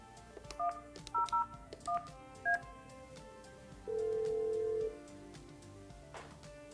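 DTMF keypad tones from a Yealink desk phone as a call is dialed: several short beeping digits in an uneven sequence, then one longer steady tone, close and clear with no talk.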